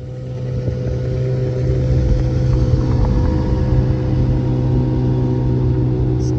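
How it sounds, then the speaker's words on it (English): A speedboat motors past on the water near a small trailer-sailer yacht, its engine a steady, moderately close drone that swells slightly as it goes by. "speedboat coming along on our left"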